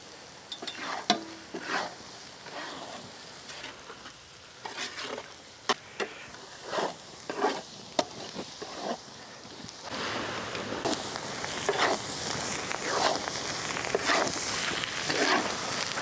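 Green chillies and spices fry for a spicy shark fish curry, with a soft sizzle under repeated stirring and scraping of a pan. The frying swells louder and more continuous toward the end.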